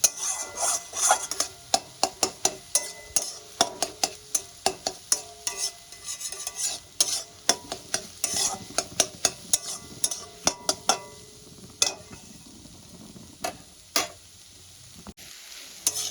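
Spring onion, potato and egg bhurji stirred in a pan over a low flame, rapid repeated scrapes and taps of the spoon over a soft steady sizzle, close and continuous with no talking.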